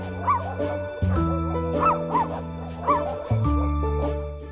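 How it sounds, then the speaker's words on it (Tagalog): Several rescued dogs at an animal sanctuary in Cavite, Philippines bark and yip in quick overlapping bursts, some whimpering, close by, while a sustained musical tone hums underneath. "Kasama ang aso kong si Cusco, kukumustahin namin ang lagay ng mga rescued na aso at pusa"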